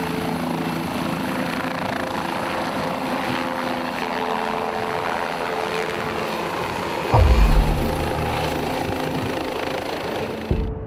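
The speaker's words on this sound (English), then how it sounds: "Watch what happens when this life flight helicopter takes off." A life flight helicopter takes off with a steady, loud rotor and engine drone throughout, a low thump surging midway as it lifts, with no voices.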